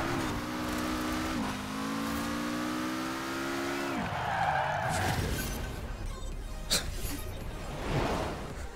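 Car engine in Forza Horizon revving and sliding through a drift, a steady rising engine tone that drops sharply midway, followed by tire scrub and a few sharp impacts, loud and close with no talk.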